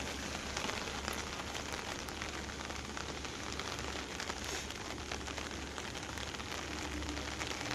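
Steady rain pours down on a rooftop terrace garden in India, a dense, even patter of drops on leaves and pots that continues without a break throughout, close and moderately loud with no voices.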